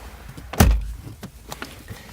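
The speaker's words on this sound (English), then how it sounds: "what we want to do is we want to close our driver's door" Driver's door of a 2008 Subaru Impreza STi shutting with one solid, close thump, followed by a few faint clicks and rattles.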